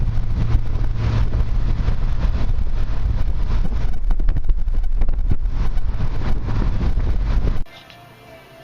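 A Triumph TR6 sports car driving with the top down, with loud, steady engine and road noise and heavy wind buffeting across the mic, cutting off abruptly near the end.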